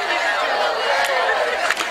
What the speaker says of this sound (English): Nice student crowd, good fan crowd.